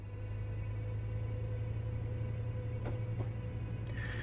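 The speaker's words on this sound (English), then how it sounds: "She's a pretty easy train to drive." A Metrolink F125 locomotive in Train Sim World 4 pulls out of Los Angeles Union Station at low speed with a steady, deep engine rumble, joined by a few faint clanks and a brief higher tone near the end.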